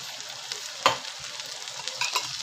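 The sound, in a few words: onion frying with curry leaves and chilies added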